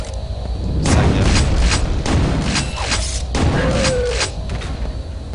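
Rocket launcher explosions in Quake 2 gameplay, a series of heavy booms and rumbling blasts with a few sharp transients, loud and continuous over several seconds, no talking.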